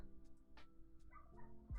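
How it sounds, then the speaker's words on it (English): Faint dog barking and yipping in the distance, muffled as if from outdoors, a few scattered barks over low background hum. "I'm so sorry if you can hear the dogs outside."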